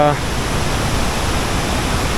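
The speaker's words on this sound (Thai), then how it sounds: "น้ำตกตาดกวงสี" Kuang Si waterfall in Laos after flooding, a loud, steady broadband roar of heavy falling water filling the whole scene without a break.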